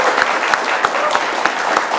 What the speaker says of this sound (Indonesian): Kita berikan tepuk tangan untuk mahasiswa kita yang sudah berpartisipasi hari ini.